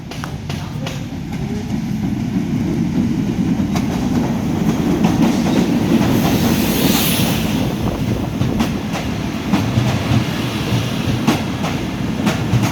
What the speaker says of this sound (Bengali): ইতিমধ্যে জয়রামপুর রকেট ট্রেনটি প্রবেশ করছে